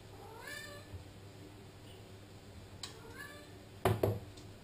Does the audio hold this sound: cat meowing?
yes